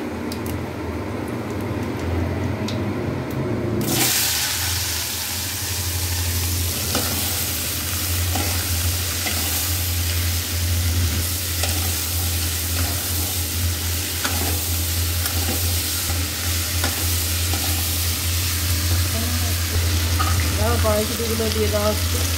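Potato curry with a cumin tempering fries in a wok after garlic: quieter at first, then a loud, continuous, close-up sizzle with stirring scrapes that holds steady for about twenty seconds.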